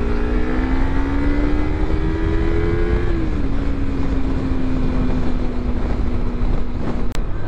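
Kawasaki Z300 Performance ABS motorcycle ridden by a beginner, its engine droning steadily with a pitch rise and a shift around the middle, wind rush loud throughout, no talk.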